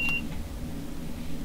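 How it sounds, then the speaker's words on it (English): Vigilance alarm aboard a Class 465/9 train in Train Sim World sounds as a short, sharp electronic beep right at the start, then fades to a steady low cab hum. "That was the alarm for the Vigilance."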